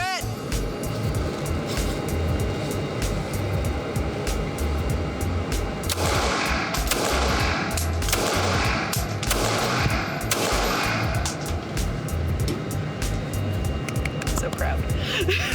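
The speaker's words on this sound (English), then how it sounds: "put 3 rounds center mass, 2 rounds in the box, in the top" Handgun rounds fired during a shooting drill at a target, sharp reports ringing out in quick bursts over steady background noise, with voices present.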